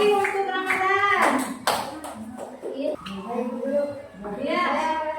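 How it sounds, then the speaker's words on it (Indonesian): Children in a classroom clap for a classmate named Ramadan, a short burst of hand claps mixed in with a teacher's voice and children talking throughout. "tepuk tangan lagi untuk Ramadan"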